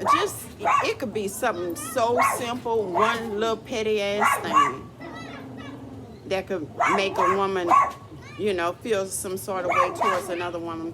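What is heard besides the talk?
dog barking and whimpering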